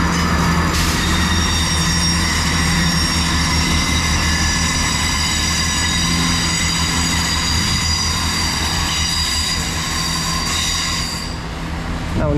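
A passenger train pulls in at Bristol Temple Meads station on the Great Western Main Line, its loud, steady rumble and wheel noise running throughout before a faint wheel squeal as it eases to a stop.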